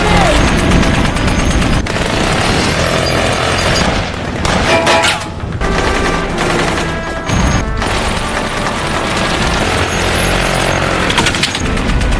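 Heavy gunfire rattles in rapid bursts with loud cracks and booms, a chaotic firefight in Mogadishu, Somalia, with shouting voices mixed in.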